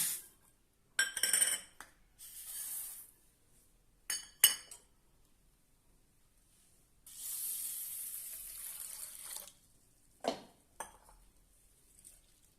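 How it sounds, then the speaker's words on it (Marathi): Lentils (dal) are washed by hand in a metal vessel: short bursts of sloshing water and running tap flow alternate with light clinks of the pot, quiet and close, with pauses between. "त्यासाठी आपण पहिल्यांदा डाळ धुवून घेऊया"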